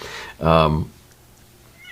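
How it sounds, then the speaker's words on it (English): A cat gives a single loud, clear meow from just outside a studio door, followed by near silence. "You hear my cat outside the studio door."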